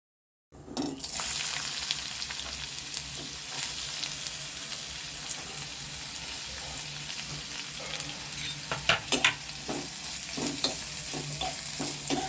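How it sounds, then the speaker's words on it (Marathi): Vegetables fry in oil in a kadhai over a high gas flame, giving a steady close sizzle broken by repeated scraping stirs, with no talking. "हे आपल्याला आता फास्ट गॅसवरती थोडंसं फ्राय करून घ्यायचे आहे"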